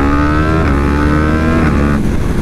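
A Yamaha R1 sport motorcycle of over 200 hp roars loud and close while being ridden, its engine note holding high and steady before a brief shift in pitch near the end.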